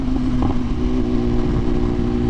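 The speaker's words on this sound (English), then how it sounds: "When I would go like half throttle like I did right there, it felt like a 600." A tuned 2023 BMW S1000RR motorcycle pulls hard at half throttle, its engine a loud, close, sustained drone with a steady raspy tone through the brief burst.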